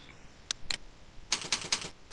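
Keys on a computer keyboard are typed in quick clusters, with a couple of isolated taps followed by a rapid run of crisp, close clicks over a quiet background.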